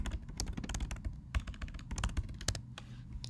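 Someone types a reply on a computer keyboard, producing quick irregular bursts of crisp key clicks at close range, fairly quiet, with no speech.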